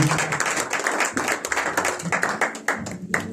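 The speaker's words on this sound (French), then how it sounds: "Applaudissons." A church congregation at a New Year's Eve communion service claps in a loose, uneven rhythm, fairly close and loud, with a few separate sharp claps standing out from the group.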